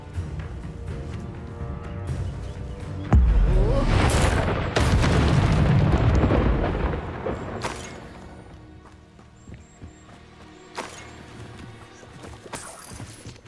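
Blasting-spell explosions from the Hogwarts Legacy fantasy game: a heavy booming burst with rumbling low end that lingers several seconds, followed by quieter scattered impacts and crackles.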